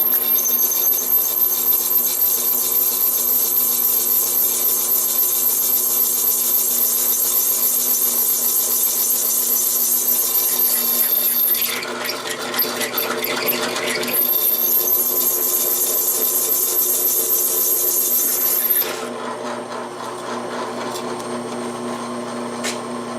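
A drill bit grinds steadily through a steel lawn mower blade, a continuous loud high-pitched scraping whine that briefly drops and changes partway before resuming, then fades to a lower grind.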